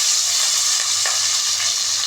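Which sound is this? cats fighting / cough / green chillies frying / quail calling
green chillies frying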